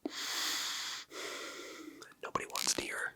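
Close-miked breathing from a person having a haircut: two long, airy exhales right at the microphone, then snuffly breaths and small mouth noises.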